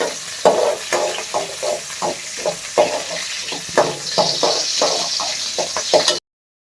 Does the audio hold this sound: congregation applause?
no